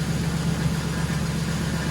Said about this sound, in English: it was idling way too high at first. This is exactly where it needs to be.